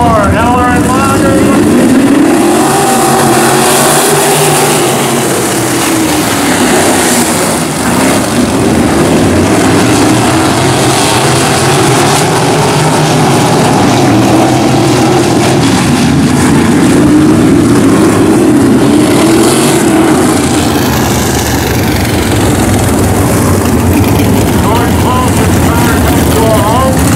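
Wingless sprint cars, including crate-motor sprints, roar through turns three and four during an A qualifying heat at Wilmot in 2022, a loud continuous engine drone rising and falling as the pack sweeps the corners.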